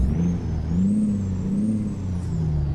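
Caterpillar C15 diesel engine in a Kenworth C500 truck in American Truck Simulator, revving steadily: a deep, loud, continuous rumble that rises and falls gently, heard alone.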